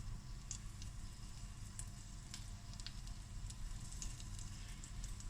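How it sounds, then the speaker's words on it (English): Half a teaspoon of fennel seeds sizzle steadily in hot burnt salted butter, a continuous close crackle with scattered small pops and spits throughout, no voices. "I'm going to add about half a teaspoon of fennel seeds."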